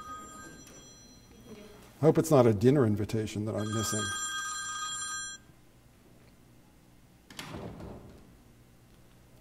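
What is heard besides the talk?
mobile phone ringing during a lecture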